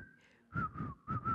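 Whistling of a tune at a memorial, heard as a few clear melodic phrases. A quiet held note comes first, then two louder whistled bursts, with no voices.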